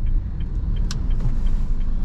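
Steady low rumble of a car engine from inside the cabin as the driver brakes and shifts down to second gear, a constant drone with no speech.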